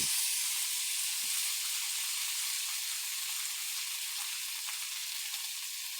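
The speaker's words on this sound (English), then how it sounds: "Then we go back on, still ripping hot pan. Just get that good secondary sear." Wagyu Denver steak sears in a ripping hot pan for a second crust, giving a loud, steady, close hiss that runs unbroken from start to finish.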